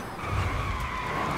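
A 2023 Porsche Taycan Cross Turismo Turbo S locking its tires under hard braking, a steady high-pitched squeal over low road rumble that stays loud for its whole short length.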